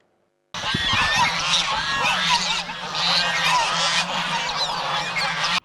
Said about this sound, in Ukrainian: На 20 гектарах землі тисячі гусей.